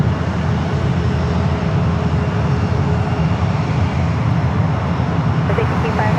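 A Condor airliner in beige livery taxis out toward runway 28 at San Francisco Airport, its engines making a loud, steady roar that runs through the whole stretch. Wind rumble lies underneath, and faint talk may be mixed in.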